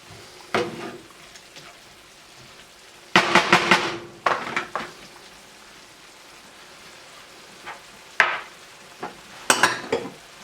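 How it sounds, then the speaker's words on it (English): Utensil scraping across the bottom of a pan of simmering bison bolognese, short bursts of scraping and clinks separated by quiet stretches, over a low bubbling simmer. "Scraping up everything you need on the bottom of the pan."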